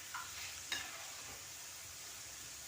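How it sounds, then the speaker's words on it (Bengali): Lentils frying dry in a pan as they are stirred, a soft steady crackle with a couple of brief scraping clicks near the start, faint and close, with no talking. "এইভাবে নাড়াচাড়া করে আমি ভালোভাবে ভেজে নেব।"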